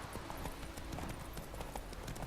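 Horse hooves clip-clop at a steady trotting rhythm in the video game Witcher 3: Wild Hunt, close and continuous with a grainy ambient bed behind them and no talking.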